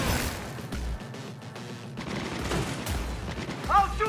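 Gunfire in Cyberpunk 2077, bursts of rapid shots and booming impacts at moderate loudness, with a voice speaking over the action near the end.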